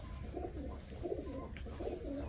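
Shahjahanpuri pigeons cooing steadily in a loft, a soft repeated burbling coo rising and falling close by, with no voices over it.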